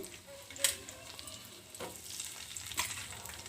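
Chopped onions sizzle quietly in hot oil on a stovetop, a soft steady crackle with a few sharper pops and a brief scrape of stirring partway through.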